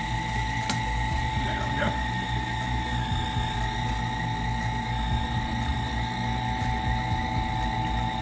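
A vacuum pump drawing vacuum on bottles of hot vinegar pepper sauce drones with a steady, throbbing mechanical hum, a short spoken remark near the start.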